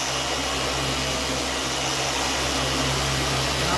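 Dual action buffer polishing car paint with compound, a continuous loud motor whine with broadband rushing hiss, steady and close throughout without talk.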